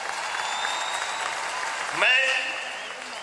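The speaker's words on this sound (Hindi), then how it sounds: "मैं आप सबसे अनुरोध करूंगा इन सभी खिलाड़ियों के लिए ताली" An audience claps in steady, continuous applause while welcoming Olympic athletes, with a voice speaking briefly over the clapping partway through.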